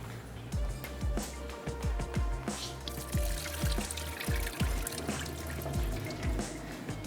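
Water drains off soaked rice being readied for pulao while the cooking flame is kept low, a soft steady pour and trickle with irregular splashy bursts, moderately quiet and close, without any talk.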